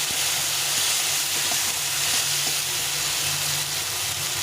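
Chopped tomato masala with salt and turmeric sizzles in a pan for a mustard-poppy pabda fish curry, a dense, continuous frying hiss with faint stirring, no voices.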